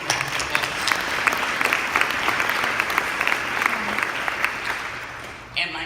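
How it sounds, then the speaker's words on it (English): Luncheon audience applauding, a full room of steady clapping at moderate level with a few sharper individual claps standing out, tapering off near the end. "Let's give them a round of applause."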